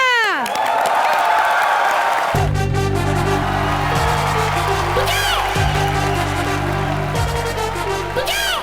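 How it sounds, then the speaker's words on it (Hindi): Studio audience of a Hindi TV comedy show applauding and cheering loudly, with whoops and shouts over steady clapping, while music with sustained low tones plays underneath. "चलिए जोरदार तालियों के साथ स्वागत कीजिए"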